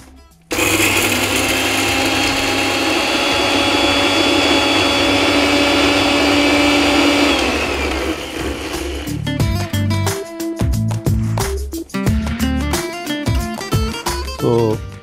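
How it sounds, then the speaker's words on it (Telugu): A mixer grinder whirs at full speed grinding garlic and spices into a coarse paste, a loud steady motor drone that stops after about seven seconds, followed by clattering and other kitchen sounds. "ఈ నూనె మరిగేలోగా మనం దీన్ని మిక్సీ పట్టేసుకుందాం"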